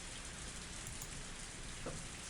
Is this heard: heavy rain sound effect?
yes